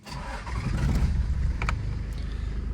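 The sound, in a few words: Toyota Land Cruiser 105 Series engine starting and driving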